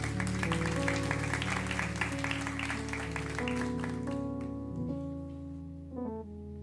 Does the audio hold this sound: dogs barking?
no